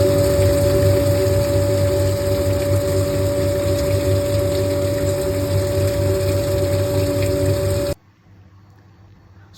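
A water pump circulates liquid through solar thermal hot water panels, a steady loud hum with tonal whine and watery rushing that runs continuously, then cuts off abruptly near the end, leaving near silence.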